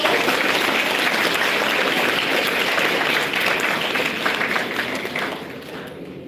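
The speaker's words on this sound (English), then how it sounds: "Can you please have a round of applause for her?" Sustained applause from an audience at an International Women's Day celebration at an institute, steady and fairly loud for about five seconds before thinning out toward the end.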